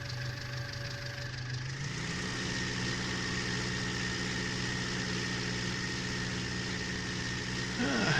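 A tractor engine rumbles steadily while driving across a field in a farming video game, a constant close, mid-pitched drone with no speech and a slight rise near the end.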